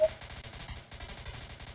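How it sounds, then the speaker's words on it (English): Gunfire in the Roblox game Liberty County, a rapid stream of repeated shots rattling steadily and fairly faintly in the background for the whole stretch, with a brief pause midway. "I don't know if you hear that too, but like gunshots."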